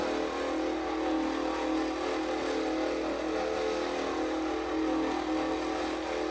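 A car in a video game drives along at a constant engine drone, a loud, even hum with no clear shifts or pauses and no speech.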